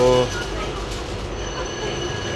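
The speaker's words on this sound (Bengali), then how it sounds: "এই হচ্ছে ট্রেন" A train at Guangzhou station on the economy service to Shenzhen: a brief tonal signal at the start gives way to steady, close rail rumble with a faint high squeal and some background voices.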